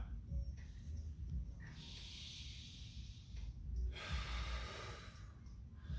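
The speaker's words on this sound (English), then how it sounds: "we want to practice big, deep belly breath." Deep belly breathing during a cool-down stretching flow, with slow, airy inhales and exhales close to the mic in unhurried cycles and no speech.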